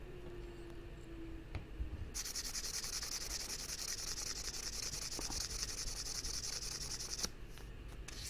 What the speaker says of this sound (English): Quick polish with about 800 grit emery